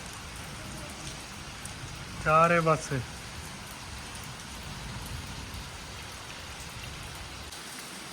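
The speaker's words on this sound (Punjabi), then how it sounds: "ਲੋਰੀ ਮੀਂਹ ਦਾ ਵੀ ਤੇਜ਼ ਹੋਈ ਜਾਂਦਾ" Heavy rain falls steadily and loudly on surfaces as a dense continuous hiss, with a brief spoken phrase near the start.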